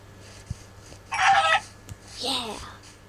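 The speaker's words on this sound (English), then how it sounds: "I found a chicken!" A chicken in the Minecraft video game clucks in two short bursts, loud and close, with a voice speaking between them.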